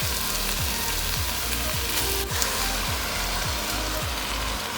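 Soaked rice and sprouted red lentils sautéed in a pan, giving a loud, steady sizzle with a regular rhythmic scrape of stirring, about two strokes per second.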